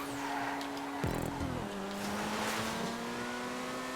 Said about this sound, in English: he did have some good acceleration coming out of the corner